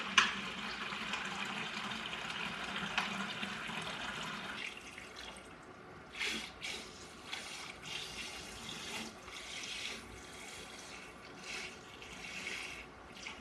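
Water and gunk are siphoned from a reef aquarium during a water change, a steady watery rushing and gurgling with intermittent slurping pulses from the hose, close and fairly quiet.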